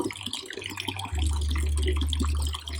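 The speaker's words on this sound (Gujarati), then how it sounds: "આખો અવેડો ભરવાનો છે." Water pours steadily into a cattle trough at a cowshed, a loud, continuous rush with a deep hum that grows stronger about a second in and holds steady.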